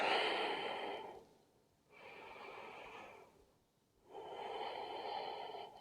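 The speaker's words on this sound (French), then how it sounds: "De trouver une respiration profonde." Three slow, deep breaths during a gentle mobility practice, each a long, soft airy rush separated by short quiet pauses, heard close and alone.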